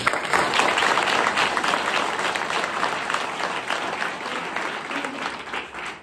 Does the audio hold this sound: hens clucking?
no